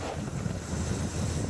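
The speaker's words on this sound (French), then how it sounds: "Le vent vient de la droite." Strong wind buffets the microphone beside the road during a cycling race, a loud, continuous roaring rush with gusty fluctuations and no voices.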